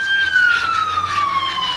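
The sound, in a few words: ambulance siren passing by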